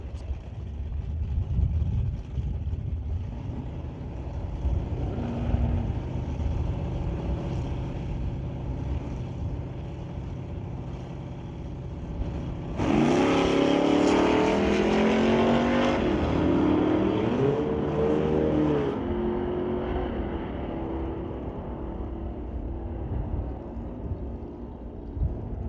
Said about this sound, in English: The Mustang GT will go up against the BDL Automotive Old School Cutlass on the far side.